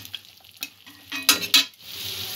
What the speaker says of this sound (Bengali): মশলাটা একটু কষিয়ে নেব 2-1 মিনিট।